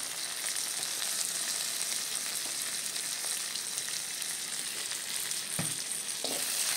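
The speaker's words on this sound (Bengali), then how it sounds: "আমার মাংসটা অলমোস্ট ফ্রাই হয়ে গিয়েছে" Meat frying in a pan with ginger garlic paste, a continuous soft sizzle at moderate distance with a couple of brief stirring knocks near the end, no voices.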